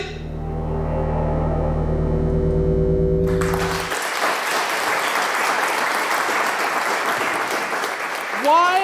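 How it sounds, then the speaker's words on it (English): A sustained musical tone gives way to a burst of loud, continuous applause from a theater audience at a stage play, steady clapping filling the space. "Why are you all applauding?"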